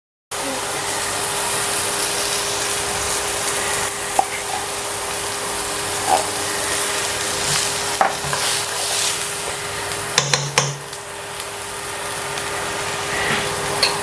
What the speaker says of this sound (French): vous attendez que l'huile chauffe bien, vous mettez les oignons un petit peu pendant 2-3 minutes, ensuite vous y ajoutez l'ail, pareil vous touillez